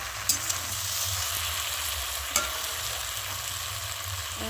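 Fish-head curry with pumpkin, potato and papaya stirred and mixed in a sizzling frying pan, a close, continuous fry with a few sharp scraping knocks of the spoon against the pan.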